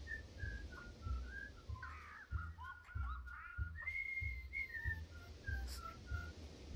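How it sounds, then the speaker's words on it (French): Followers whistling in the god video game Godus, a bright, wavering whistled melody that carries on steadily over a soft, pulsing rhythmic backing. "Ils sont en train de siffler."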